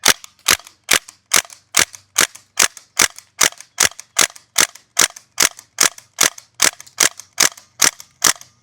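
A North East Sten gas blowback airsoft gun fires BBs in a long, steady string of about eighteen sharp, loud cracks, each with a mechanical bolt clack, evenly spaced and close.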